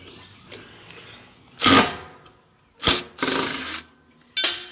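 Screws are backed out of a ceiling fan being scrapped for copper, producing short bursts of tool whirring and ratcheting separated by quiet pauses, close and fairly loud.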